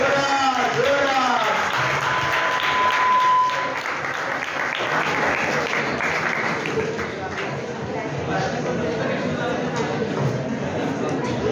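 Audience applause at a science club prize ceremony marking Einstein's birthday, a steady, dense clapping from a large crowd that holds throughout, with a brief tone and voices mixed in early on.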